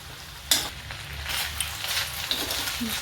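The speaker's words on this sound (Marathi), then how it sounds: "हिरवा वाटाणा पण चांगला गोल्डन होईपर्यंत त्याला चांगला परतून घ्यायचा आहे" Green peas frying in oil for aloo matar, a steady close sizzle with a sharp stir clatter near the start and small scraping touches afterward, no talking.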